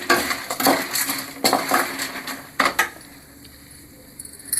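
Five or six dried red chillies tumble into a hot pan for a garlic-pepper kuzhambu, giving a few sharp clattering hits and rustles, then a soft sizzle settling in, close by with no talking.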